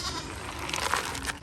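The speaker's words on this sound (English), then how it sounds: "Goats." Wet goats in a farm enclosure give a short, close bleat amid rustling and steady background noise, with no talk over it.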